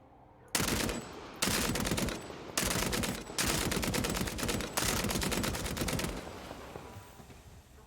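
LMG machine gun in Vampire the Masquerade: Bloodhunt fires in four loud sustained bursts of rapid automatic shots, each about a second long, separated by brief pauses, with a fading tail after the last burst.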